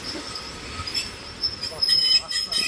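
An Uzbekistan Railways train sounds close by with rising wheel squeal and rumbling carriages over a steady high insect-like whine, growing louder toward the end.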